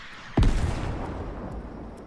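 A single heavy weapon blast in Fortnite, a sharp loud boom followed by a long rumbling decay that fades slowly without further shots.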